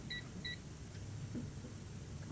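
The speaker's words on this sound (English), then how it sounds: "Timer's about to go up." Electronic timer beeping during a CDL Class A truck air brake leak test, two short double-tone beeps near the start over a steady low engine idle rumble.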